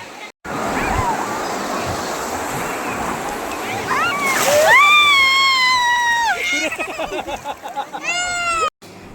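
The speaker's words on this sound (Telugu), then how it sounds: "ఈవినింగ్ టైం కాబట్టి కొంచెం అలలు స్పీడ్గా వస్తున్నాయి." Evening sea waves roll in and wash up the shore in a steady surging rush, with a loud burst of surf midway, while people and someone talk and call out over the water.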